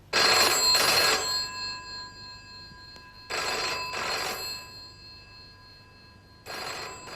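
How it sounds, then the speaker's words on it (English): A telephone bell rings in two-part bursts, each a loud, rattling double ring followed by a pause with a lingering tone, repeating three times alone without talk. "takes some time to answer the phone"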